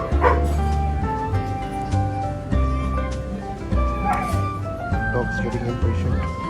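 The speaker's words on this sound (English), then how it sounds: "Dog's getting impatient." A dog barks, yips and whimpers impatiently in short repeated bursts close by, over a steady engine hum, on a superbike ride.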